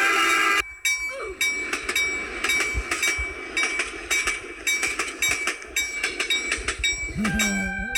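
A train in Roblox rumbles past with rhythmic clacking and metallic clinks, steady and fairly loud, with a brief horn-like tone near the end.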